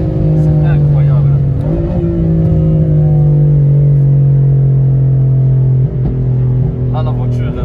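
A tuned 850 hp BMW M4 holds a loud, steady, droning rev at close range, its pitch shifting slightly as the throttle changes.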